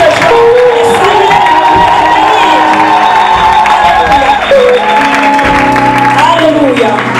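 A church congregation cheers and applauds loudly, with sustained clapping, whoops and shouts filling the space for several seconds.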